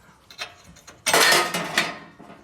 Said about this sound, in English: Excuse the loud noise. It hit the freaking metal.